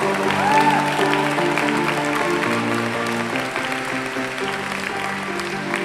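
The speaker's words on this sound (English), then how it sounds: "Let us give them a round of applause for their outstanding achievement." Audience applause for basketball champions at an annual school basketball encounter, sustained clapping from a crowd that holds steady and fades slightly toward the end, with a faint voice mixed in.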